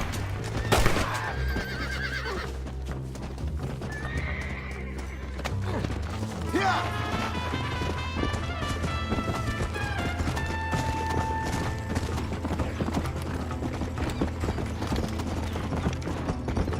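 Horses in the video game Red Dead Redemption, loud neighs and whinnies with a rapid clip-clop of galloping hooves, mixed with gunfire-like crashes, music and voices.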